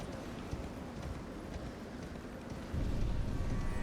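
A horse gallops in the Elden Ring video game, its hooves a steady, dense rumble of clip-clop running throughout, growing slightly louder near the end under a constant ambient wash.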